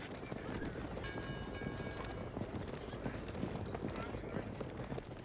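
Rus horse archers gallop against Japanese mounted samurai in a strategy video game battle. Quick, overlapping hoofbeats clatter steadily at a moderate distance, with a voice talking over them.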